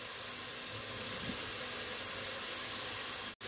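Vegetables sautéing in butter in a pan for red beans and rice give a steady, close, even sizzling hiss that runs throughout with no talk, cutting out briefly near the end.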